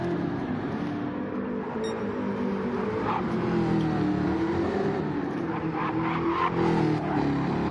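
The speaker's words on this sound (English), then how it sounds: "It's great to see the Corvette on here and hear it rumbling away." Race cars circulate at Bathurst during a four-hour endurance event, including a rumbling Corvette, with a continuous engine drone, shifting revs and a distant pass-by building toward the end.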